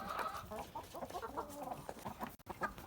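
White Leghorn chickens clucking and murmuring close by in a continuous flock chatter, with several overlapping hens and brief louder squawks.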